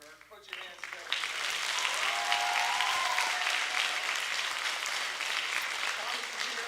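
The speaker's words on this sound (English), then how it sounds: "And I want one more round of applause because you guys are so lucky to have them." Audience at a school D.A.R.E. graduation breaking into loud sustained applause, dense and steady after a brief quieter start, with a few voices and cheers mixed into the crowd noise.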